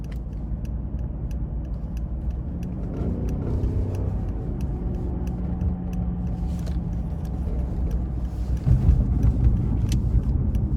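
A 2014 Mercedes-Benz S550 4Matic with 131,000 miles pulls along the road with a smooth, steady cabin drone of engine and tyre noise that swells slightly near the end, with no talking.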